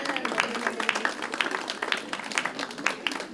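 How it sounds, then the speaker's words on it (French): A church congregation claps together in dense, continuous applause at close range, an uneven patter of many hands sustained from start to finish. "Applaudis ton frère et ta sœur."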